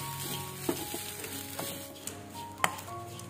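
Rice, pepper, curry leaves and grated coconut roasting in oil: a quiet, close sizzle under a few sharp clicks and scrapes of stirring, with no one talking.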